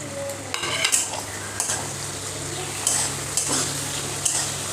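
Chopped tomato frying in a pan of crab curry, with a steady sizzle broken by repeated spoon stirs and clinks against the pan.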